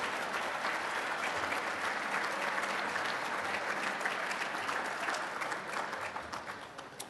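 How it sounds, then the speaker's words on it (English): Sustained audience applause fills a room at an awards dinner, steady and dense throughout before tapering slightly near the end. "Let's give a round of applause to Larry Jacobson."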